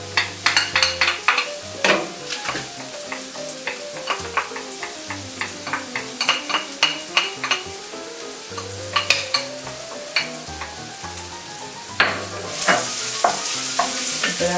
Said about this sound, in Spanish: esperamos que se caliente el aceite. Ponemos la cebolla, la tenemos aquí picadita con el ajo.